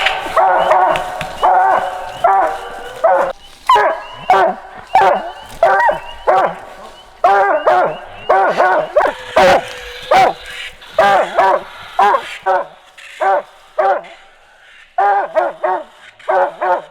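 Coonhounds bark and bawl at a tree during a coon hunt at a championship tournament, a steady run of loud, close, choppy barks with brief pauses, some voices overlapping.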